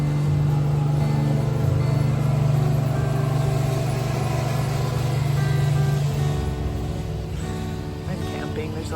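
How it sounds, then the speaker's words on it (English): A passing car's engine rumbles steadily with a strong low hum, then fades as the vehicle moves off; faint speech sits beneath it. "Hang on, there's a car going by"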